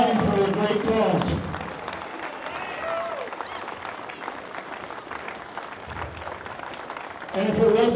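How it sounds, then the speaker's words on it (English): Pro wrestling crowd at an independent show applauding and clapping, a dense wash of claps under someone speaking loudly over a microphone, with the applause continuing steadily throughout. "Give yourselves a round of applause for raising money for a great cause."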